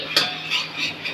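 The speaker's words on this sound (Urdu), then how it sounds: "ایک چمچ بٹر میں 2 ٹی اسپون میدا اچھے سے بھون لیں." A spoon scrapes and stirs flour roasting in butter in a pan, with a few rhythmic strokes over a steady faint sizzle.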